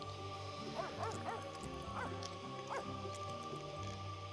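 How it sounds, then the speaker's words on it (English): Dog barking in The Sims 3, a run of short yipping barks and whimpers repeating every half second or so over steady game music, fairly close and moderately loud. "Stop barking, Joy."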